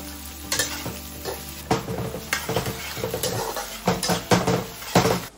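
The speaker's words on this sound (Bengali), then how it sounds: "পেঁয়াজ ভাজতে একটু সময় লাগে, তাই ধৈর্য ধরে সময় নিয়ে একটু ভাজতে হবে" Chopped onions with nigella seeds sizzling in hot oil, close and continuous, broken by irregular clinks and scrapes of a spatula against the pan as they are stirred; nobody speaks.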